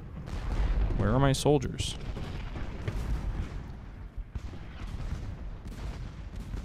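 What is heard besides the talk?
artillery firing, video game Ultimate General: Gettysburg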